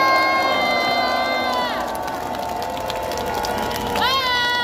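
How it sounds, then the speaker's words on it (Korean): Crowd at a political rally cheering and clapping after a call for applause, loud and sustained with shouts and voices mixed in, while tonal sweeps rise and fall over the noise. "여러분 박수 한번 크게 보내주세요."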